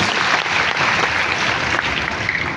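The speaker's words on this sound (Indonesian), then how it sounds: "Tepuk tangan dulu dong yang bangga buat Yesus" A congregation at a Christmas Eve church service applauds, a thick, sustained burst of clapping from many people that fills the room without a break.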